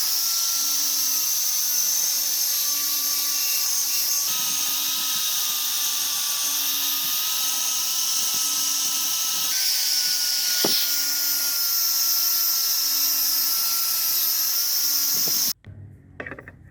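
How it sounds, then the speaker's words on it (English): Electric file grinding a metal wrist blade, a steady loud high-pitched whine with a buzzing tone that runs almost continuously and cuts off abruptly near the end, followed by a few faint handling knocks. "This is an electric file."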